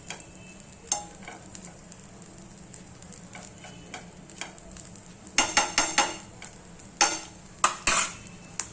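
A sandwich roasts in a pan over a low flame, giving a faint, steady background sizzle broken by scattered clinks and scrapes of a utensil against the pan, with a brief cluster of louder taps midway.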